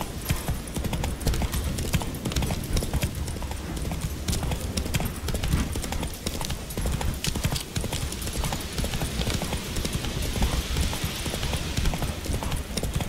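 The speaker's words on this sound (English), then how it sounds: "So let's get on horse" Horse hooves galloping in the video game Witcher 3: a fast, continuous clip-clop of hoofbeats that stays loud and even throughout, backed by a dense layer of game ambience.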